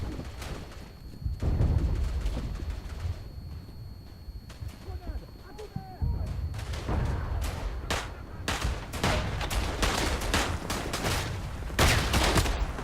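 Gunfire crackles in the World War I video game Verdun, with sharp cracks and rapid bursts rising to dense volleys, mid-distance amid ongoing battle noise and a voice talking over it.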